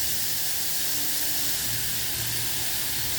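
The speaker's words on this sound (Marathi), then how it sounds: "मस्त फ्राय करून घ्यायच्या" Vegetables frying in oil in a pan, a steady close sizzling hiss that holds constant without pause, with no voices.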